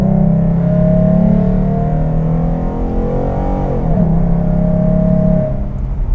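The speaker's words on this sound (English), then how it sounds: "That's all interior exhaust noise, and like I said, it sounds really good." Heard from inside the cabin, a Ford Mustang V6 fitted with a Roush exhaust drones with a deep, loud, steady engine tone, rising and falling with the revs over several seconds. No one speaks.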